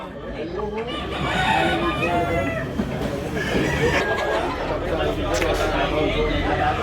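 At a rooster market in Tabunok, Cebu City, crowing cocks and clucking fowl sound over steady crowd chatter and nearby talking voices.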